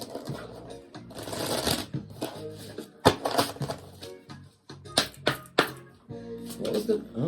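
Life lesson oracle cards are shuffled in bursts of crisp riffling and slapping, several quick rounds close by, with someone speaking between and over them.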